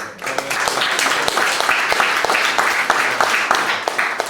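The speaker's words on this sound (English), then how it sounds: "Round of applause for the" Audience applause fills a gallery during a youth art party: a steady round of clapping with individual hand claps standing out near and distinct, lasting about four seconds.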